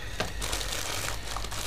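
Plastic bag crinkling while an aquarium internal filter is unpacked, close and fairly loud, a continuous rustling crackle with a few sharper crinkles.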